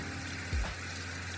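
Rain ambient track from an ION Bright Max speaker, a steady dense hiss with a soft low bump partway through and no voices.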